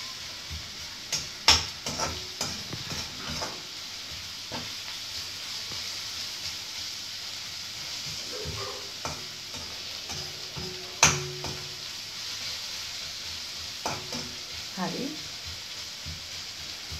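Cut ginger sizzles in a frying pan as it is tempered, a soft steady frying hiss broken by scattered sharp ticks and pops and a few louder clinks of a utensil against the pan.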